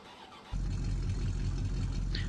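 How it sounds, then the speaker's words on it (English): A V8 engine in the video game Farming Simulator 2015 catches after a brief crank and settles into a deep, steady, rumbling idle, close and moderately loud, with no talking. "To me it sounds like a V8"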